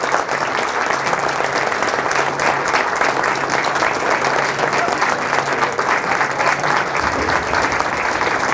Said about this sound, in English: I really would like you all to give them a round of applause.